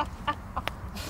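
A few short, soft clucks from chickens close by, quick and irregular over a low background hum.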